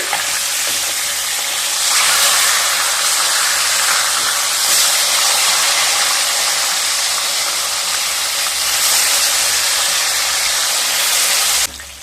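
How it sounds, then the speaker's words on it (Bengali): Rohu fish pieces frying in hot mustard oil after being turned over sizzle loudly and continuously up close, the dense spattering hiss swelling slightly a few times before dropping off abruptly at the end. "মাছগুলো একটা সাইড ভাজা হয়ে গেলে এবার উল্টে নেব।"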